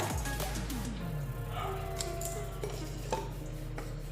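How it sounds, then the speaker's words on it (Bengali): Pabda fish being mixed by hand with mustard oil and spices in a bowl, giving close, continuous soft clinking and stirring scrapes against the dish over a low steady hum, with no talking. "প্রথমে এগুলোকে ভালো করে মিক্সড করে নিই মাছের সাথে।"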